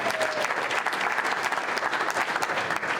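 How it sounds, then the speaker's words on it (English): A steady, dense round of applause from an audience at a community political gathering, loud and continuous throughout with faint crowd murmur beneath. "So let's give ourselves a round of applause for getting this far."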